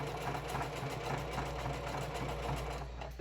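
Sewing machine stitching a reenactor patch onto a garment, a loud, close, continuous rapid whir and chatter with steady needle pulses throughout.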